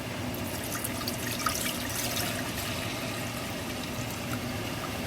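Water and apple cider vinegar pouring into a cooking pot for pickled beets, a steady trickling, splashing flow heard close and fairly quiet, without talk.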